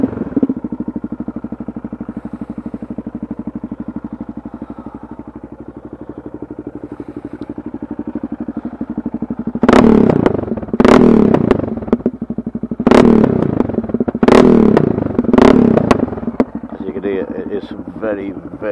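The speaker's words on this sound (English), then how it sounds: "So I'll give you a little sound off me exhaust with the decibel killer out." Yamaha XT660Z Tenere motorcycle with the exhaust decibel killer removed, idling with a steady thump, then a series of sharp loud revs blipped in bursts at close range, with wind buffeting the microphone.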